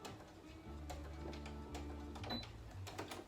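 A home sewing machine back stitching on a drawstring bag, a steady whirring motor run with a low hum and rapid needle ticks, close and fairly quiet, with no talk.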